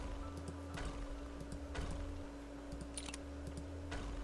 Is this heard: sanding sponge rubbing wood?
no